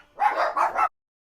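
A dog barks excitedly in a few quick, loud, close yaps run together, then stops abruptly into silence.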